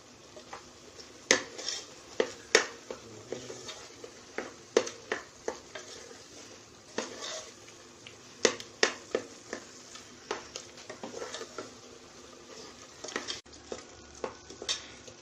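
Beetroot and ground coconut paste cooking slowly in a pan for a Kerala sadya-style pachadi, with intermittent sharp stirring scrapes and utensil clinks over a soft sizzle, close and steady.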